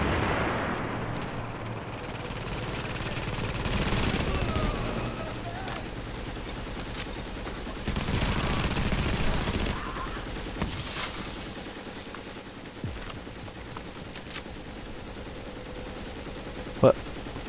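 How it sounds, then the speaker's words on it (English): Heavy enemy gunfire rakes the player in The Division, sustained rattling volleys with loud swells and a few sharp isolated cracks, blended with game ambience and occasional voices. "they're shooting the shit out of me"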